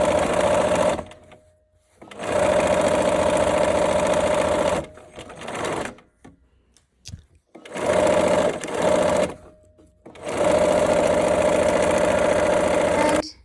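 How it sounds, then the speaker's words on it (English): A sewing machine joins rows of a quilt, whirring in long steady runs of several seconds broken by short pauses and a few clicks, close and fairly loud. "So let's go ahead and sew."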